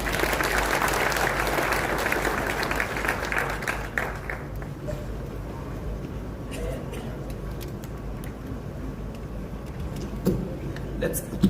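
Loud applause from an investment conference crowd fills the first few seconds, then fades into scattered claps and general room noise.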